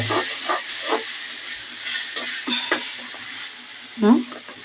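Ginger and garlic hit a hot pan while chicken feet, gizzard and liver bhuna is cooked, producing a loud hissing sizzle with occasional stirring scrapes and a brief burst of spitting steam, and a voice is faintly heard nearby.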